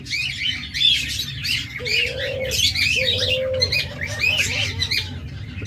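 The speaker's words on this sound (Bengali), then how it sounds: "এবার আপনাদের আমি ঘুঘু পাখি দেখাই দেখুন চমৎকার একটা জোড়া আছে এখানে" A pair of doves coo in low, soft repeated calls at a pet bird sale while other small birds chirp busily and continuously around them, fairly close.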